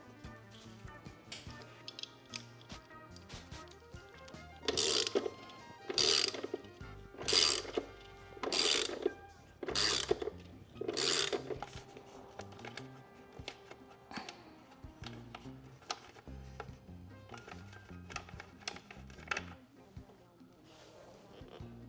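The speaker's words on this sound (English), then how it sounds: "we have 3 more bolts that we have to take out" Sharp ratchet clicking comes in a run of about six loud bursts in the middle while bolts are removed from a 2024 Harley-Davidson Road Glide during a Screamin Eagle Stage upgrade, with quieter handling noises before and after.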